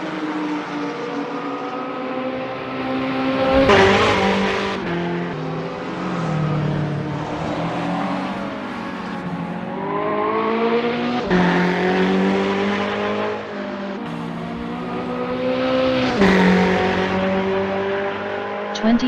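A Ferrari 488 GT3 race car at Hockenheimring GP in a racing game, its engine revving high and climbing through gears, with sharp shifts and dips into braking, loud and steady throughout.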